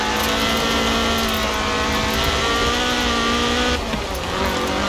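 A Ford RS 1800 rally car in Forza Horizon 4 holds a loud, steady engine note with strong harmonics, then drops its revs near the end as if shifting or lifting off.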